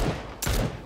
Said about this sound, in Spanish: Disparos, tío.